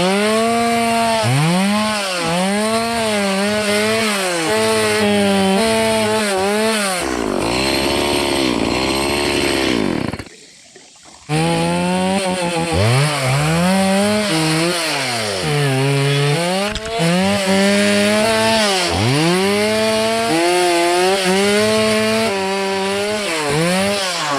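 A chainsaw cuts into a tree, loud and close, its engine revving up and down in repeated surges as it bites into the wood, with a brief pause near the middle before cutting resumes.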